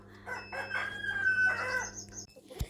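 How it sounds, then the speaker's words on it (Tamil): Small farm chickens cluck and call close by, a rooster-like crowing phrase rising over a steady low hum, ending in a brief sharp knock. "ஸோ இவங்க கொஞ்சம் சின்ன கோழி."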